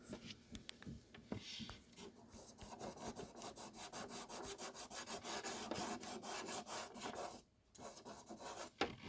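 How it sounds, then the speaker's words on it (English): Steady back-and-forth rasping of sanding on a plastic model car roof, rhythmic strokes close up, pausing briefly near the end. "once you finish sanding the roof, it should look something like this"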